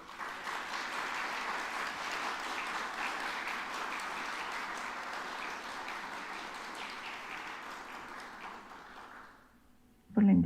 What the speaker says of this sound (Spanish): la despedimos también de este espacio con un aplauso